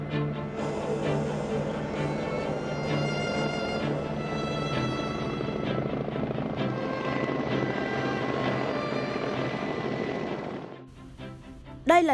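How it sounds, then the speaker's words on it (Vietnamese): Russian Ansat and Mi-171A2 helicopters in a flying display over Hanoi: a loud, steady rotor and engine drone holds for about eleven seconds, then drops away abruptly. "hai chiếc trực thăng nổi tiếng Ansat và Mi-171A2 của Nga tiến hành các hoạt động bay biểu diễn ở Hà Nội"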